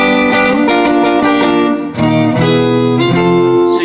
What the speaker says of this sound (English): it's a superimposed guitar that sounds like this.